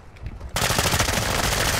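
Rapid automatic gunfire rattles through a fence in an online shooter game, a loud sustained burst of closely spaced shots that erupts abruptly after a brief quieter moment.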